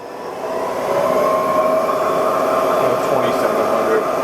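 A Bridgeport vertical milling machine with new ball screws and servo motors runs its spindle at speed, a steady smooth whirring hum with a faint high tone, quietly sustained, while a person speaks over it.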